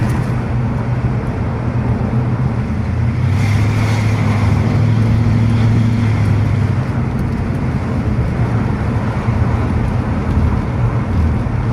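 A Ford Mustang engine rumbles steadily at idle at a car show, a loud, constant low drone with a brief swell partway through.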